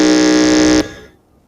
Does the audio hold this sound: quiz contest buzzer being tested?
yes